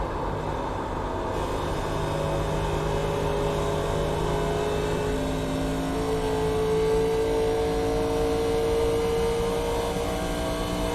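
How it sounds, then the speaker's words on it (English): NASCAR Legends car engine held at full throttle in iRacing at Charlotte, a steady loud drone with sustained tonal whine, rising slightly in pitch and constant throughout with no pauses. "I'm back at full throttle here."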